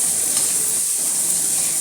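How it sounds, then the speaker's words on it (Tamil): Steady, loud sizzling of onions frying in a hot pan, a continuous hiss with no talking. "வெங்காயம் நல்லா வதங்கட்டுங்க"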